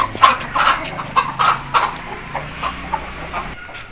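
A hen clucks in a series of short, fairly loud bursts near the microphone, with faint farmyard noise underneath.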